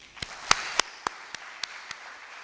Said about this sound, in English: please join me giving a big round of applause to Dr. Amir Sufi.